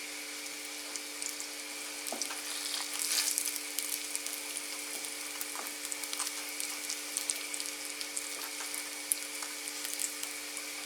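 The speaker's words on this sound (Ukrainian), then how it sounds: "Котлети смажимо до хрусткої золотої скоринки." Steady crackling sizzle of mushroom patties frying in hot oil in a pan, a continuous bright hiss with scattered pops and a faint hum underneath.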